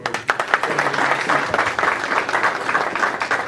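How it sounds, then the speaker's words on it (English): Audience applause at a press conference for the Magic City Classic, a steady patter of many hands clapping at moderate loudness, with some voices mixed in. "One more round of applause, please."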